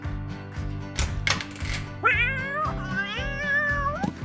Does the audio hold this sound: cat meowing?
yes